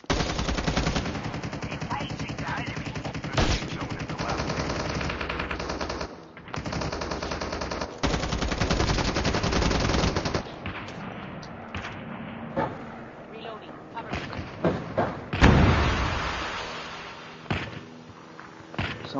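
Call of Duty battle royale machine gun fire rattles in loud, sustained automatic bursts, broken by short pauses and sharper single shots and thuds toward the end.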